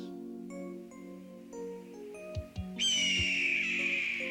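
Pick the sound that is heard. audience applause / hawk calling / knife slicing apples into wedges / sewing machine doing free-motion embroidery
hawk calling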